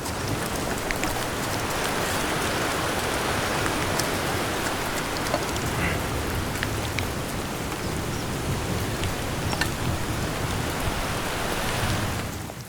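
Steady rain pours on an outdoor building site for a wooden garden pavilion, a loud, continuous dense hiss of drops on surfaces with no talking.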